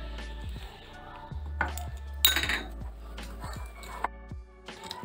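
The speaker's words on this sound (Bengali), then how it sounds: "চিনির সঙ্গে মাখনটা ভালো করে মিশিয়ে নিয়েছি।" Room-temperature butter and powdered sugar are worked together in a bowl, with a utensil clinking and knocking against the bowl in irregular, close, fairly quiet strokes and pauses.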